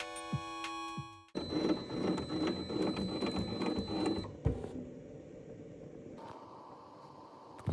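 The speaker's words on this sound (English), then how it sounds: "it's stitched in 3 uninterrupted passes." A computerized embroidery machine stitches a generative tree design into fabric, giving a fast, dense mechanical whir of needle strokes for a few seconds, then a quieter motorized hum and clicking as it moves on.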